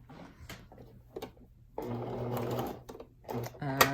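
A home sewing machine runs a zigzag stitch while making lace underwear with fold-over elastic, with short stop-start bursts of mechanical whirring and then a longer steady run, close up, with some talking in between.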